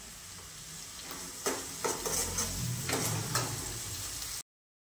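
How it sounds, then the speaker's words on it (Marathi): Cabbage manchurian with spices sautés on full gas in a pan, a loud constant sizzle broken by several sharp scraping stir strokes, close up with no talking. "हे फुल गॅसवरतीच आपल्याला सर्व काही परतून घ्यायचं"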